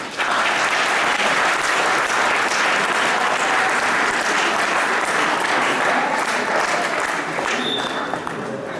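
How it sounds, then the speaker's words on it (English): Crowd at a college transfer ceremony giving sustained, loud applause that stays dense and even throughout, with a few scattered voices beneath the clapping. "give your support system a round of applause"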